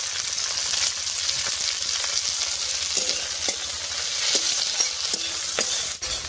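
Spring onion and garlic leaves frying in a pan, a steady close sizzle with repeated light clinks and scrapes of a spoon against the pan.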